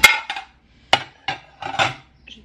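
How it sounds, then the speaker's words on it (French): Dishes being unloaded from a dishwasher at home: a handful of separate clinks and clatters of crockery and cutlery set down one after another, close and sharp, with short quiet gaps between them. "Je suis en train de sortir vider mon lave-vaisselle."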